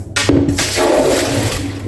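Hot cooking water pours off boiled white beans, a brief rushing, splashing gush that starts abruptly and runs steadily close by, with no talking over it.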